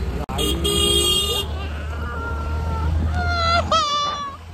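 Road traffic at a village fair (jatra) with a car horn tooting in several sharp bursts and longer blasts, close and loud over a steady engine rumble, with crowd chatter in the background.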